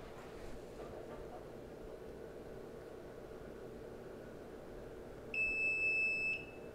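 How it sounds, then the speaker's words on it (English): A 12-pod hydroponic grow system gives a single steady electronic beep about a second long when first plugged in, clear and close over a quiet room hum. "So when you first plug it in, it should beep."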